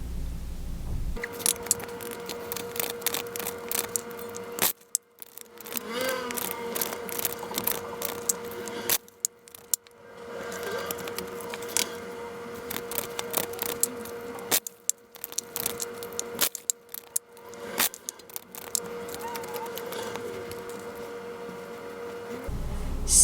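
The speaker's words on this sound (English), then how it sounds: "Let's start shuffling." Tarot cards are shuffled in repeated bursts of crisp riffling and papery clicks, separated by brief pauses, over a steady held tone in the background.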